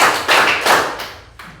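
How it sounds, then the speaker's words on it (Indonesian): Children in a fourth-grade primary classroom clap together in a game, giving a few quick, loud group claps in a row that trail off into softer scattered claps, with no talk. "Tepuk 3 kali."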